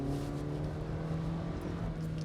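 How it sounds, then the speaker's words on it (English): A 2022 Toyota Corolla Cross with a CVT accelerating, heard from inside as a steady droning engine note that holds an even pitch, constant and moderately loud, without voices. "it's got a CVT, so it sounds like boop"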